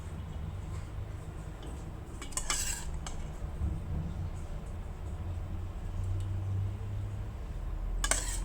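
Chicken fries in a pan for a Moroccan stew, with a low steady hiss under a few sharp metallic scrapes and clinks of a stirring utensil against the pan.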